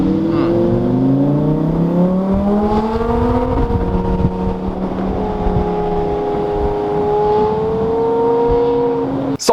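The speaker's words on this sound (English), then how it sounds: "We're also about to hear some exhaust notes out of the straight pipe 599, because that sounds absolutely insane." A straight-piped Ferrari 599 with a titanium race exhaust and supercharged engine revs loudly at a cars-and-coffee meet, its engine note climbing and falling in repeated sweeping blips, close and dominant.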